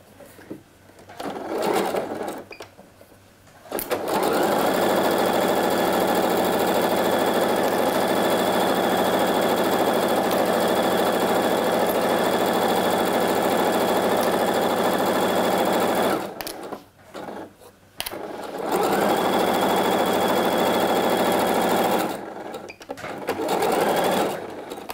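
Domestic sewing machine stitching the side seam of a wool coat, running in long steady bursts of even mechanical whirring with brief stops between, close and loud with no talk.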